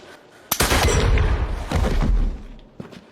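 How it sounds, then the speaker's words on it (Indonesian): Gunshots ring out in a film duel inside an empty warehouse, with a sharp loud crack followed by heavy booming rumble and a second blast, then a quieter thump near the end. "Yakov dan Basargin akan saling menembak satu sama lain dengan dinding kertas Jepang sebagai pembatasnya."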